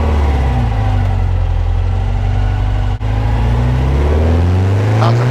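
A 1974 Volkswagen Super Beetle with a 2054cc stroker engine runs steadily at close range, a low rumbling idle with a brief dropout midway, then continues humming.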